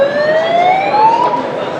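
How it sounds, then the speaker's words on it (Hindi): Rising wail of a siren on a smart patrolling chariot. A steady upward-sweeping electronic tone plays loud and close for the whole moment, with nothing else over it. "सायरन भी इसमें आ गया।"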